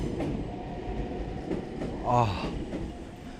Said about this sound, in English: this train literally goes right under us